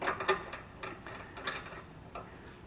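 Hand-tightening an anti-rattle bolt in a trailer hitch receiver while test-fitting a Swagman Titan four-bike rack on a 2011 Buick Enclave, giving a few light metallic clicks and ratcheting ticks, close and fairly quiet.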